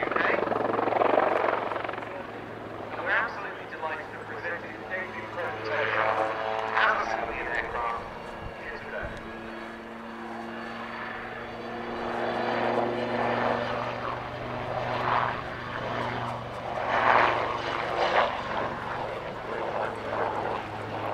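A Westland Lynx helicopter drones steadily at an airshow with a thrumming rotor and engine whine, rising and falling slightly, while a voice talks over it.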